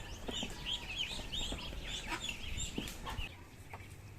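Three mother hens with their newly hatched chicks on a farm, soft clucks mixed with thin high peeping, close and continuous over light background noise.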